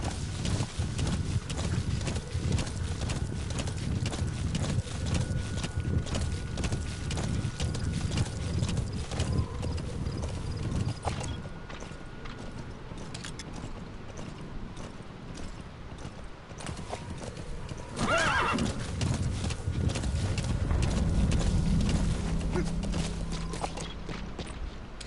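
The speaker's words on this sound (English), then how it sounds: "This horse is pretty fast," A horse in the video game Metal Gear Solid V gallops with steady rhythmic hoofbeats and occasional clanking gear, fairly loud and close, easing off briefly midway before picking up again, with a neigh heard.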